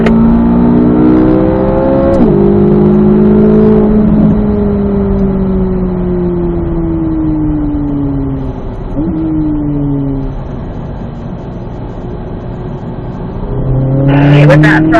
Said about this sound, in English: Now accelerate.